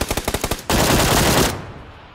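Gunfire in the PUBG video game: a rapid burst of about eight evenly spaced automatic shots, then a dense sustained stream of fire that cuts off and fades, loud and close with no voices.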